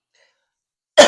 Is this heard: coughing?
yes